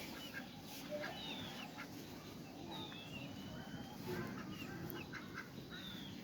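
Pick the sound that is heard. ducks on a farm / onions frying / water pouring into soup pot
ducks on a farm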